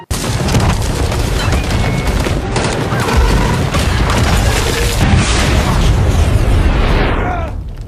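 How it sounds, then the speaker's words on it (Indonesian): A film action scene where a monster called the Reaper is shot with an experimental bullet. A dense, loud, sustained roar of booms and blasts continues without break and fades at the very end. "Dia nembak Reaper, dan boom!"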